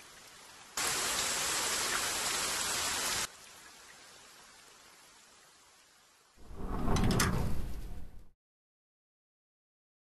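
Rain falls in a video game scene, a steady hiss that swells loudly for a couple of seconds, fades back to a softer patter, then surges again in a brighter burst before cutting to silence.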